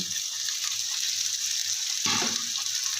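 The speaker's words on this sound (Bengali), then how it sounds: "ভালো করে আমি ভেজে নেব" Onion, green beans, carrot and potato frying together in a hot pan, giving a steady broadband sizzle throughout with a brief stirring clatter near the end.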